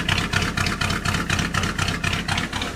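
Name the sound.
old muscle car engine running after 33 years of storage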